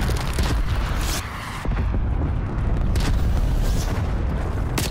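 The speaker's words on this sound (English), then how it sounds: "Enemy cruise missile launch detected." An enemy cruise missile strike in the video game Call of Duty: Black Ops Cold War erupts in a continuous, loud, rumbling barrage of booming explosions with crackling debris, lasting several seconds with no talk over it.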